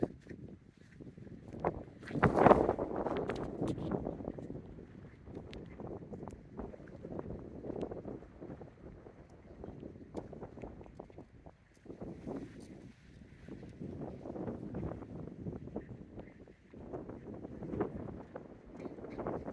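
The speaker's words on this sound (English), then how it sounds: "it's actually surprisingly windy and cool up here" Strong, steady wind buffets the microphone in rumbling gusts on Cavanal Hill in eastern Oklahoma, rising and falling outdoors with no voices.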